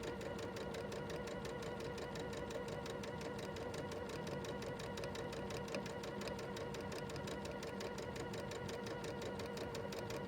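Sewing machine stitching fabric along a marked line, a fast, even mechanical chatter running steadily and faintly throughout.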